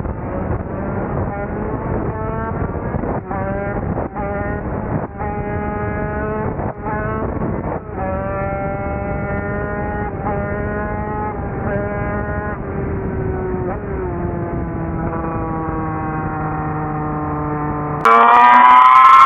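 A Casa Performance 250 twin-cylinder Lambretta scooter engine revs up repeatedly with loud rising whines through the gears, each climb cut short by a shift, before a sharper louder burst at the end.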